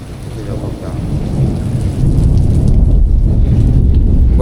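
Heavy morning rain pours down steadily with a low rumbling thunderstorm rolling beneath it, a dense, loud wash of rainfall that grows slightly heavier partway through, with no voices over it.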